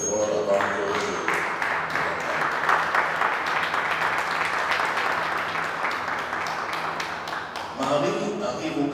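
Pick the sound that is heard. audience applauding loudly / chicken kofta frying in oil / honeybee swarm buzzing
audience applauding loudly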